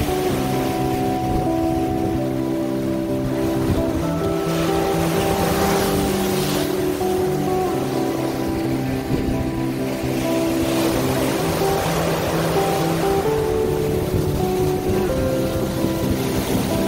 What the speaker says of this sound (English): There's some big waves rolling into this bay.